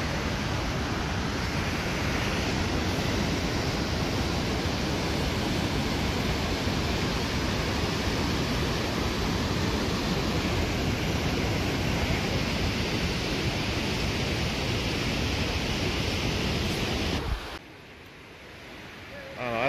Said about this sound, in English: No, maybe the end of the waterfall.